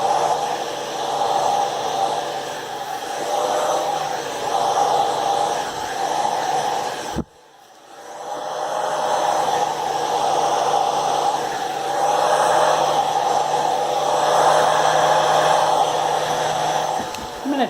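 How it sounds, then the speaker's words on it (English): A hairdryer blows a steady, loud whoosh while drying alcohol-based paint, cuts out abruptly for a moment, then comes back on and keeps running evenly. "I'm going to turn this hairdryer off."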